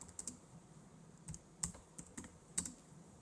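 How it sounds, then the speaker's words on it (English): Keys on a computer keyboard are tapped in short, irregular bursts, quiet and close, with a few sharper clicks and no voices. "I'm going to type in Trader Joe's."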